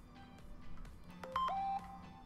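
A phone gives a short run of electronic beeps and tones at moderate volume, set against faint background sound and with no talk.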